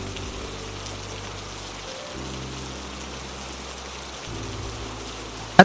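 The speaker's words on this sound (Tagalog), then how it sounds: "ay walang hinto din ang pagbuhos ng ulan" Heavy rain pours at night as a steady, dense hiss of drops falling on surfaces, constant throughout with a low droning hum underneath and no voices.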